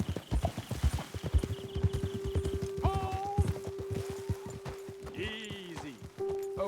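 Horses walk and clip-clop in Red Dead Redemption 2, a steady rhythmic patter of hooves close by, with game voices talking over it and a tonal music or effect line running beneath.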